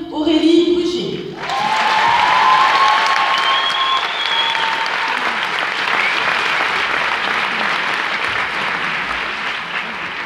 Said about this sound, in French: Merci d'applaudir Aurélie Brugier